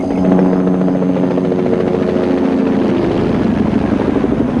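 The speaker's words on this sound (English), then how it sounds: "It's a Bell Jet Ranger helicopter specially equipped with infrared heat-seeking instruments." A Bell Jet Ranger helicopter fitted with infrared heat-seeking instruments flies close by, its steady loud rotor thrum and turbine whine holding for the whole stretch with no talk over it.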